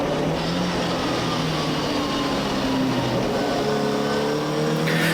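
Historic MGB race cars lapping the Snetterton circuit, a loud, continuous engine drone with shifting pitch as cars pass close by, and no talk.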